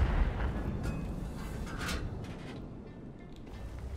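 A heavy, booming tank cannon blast from World of Tanks, fired by a Kpz. 68(P), rolls out at the start and decays into a long, low rumble, with faint clicks above.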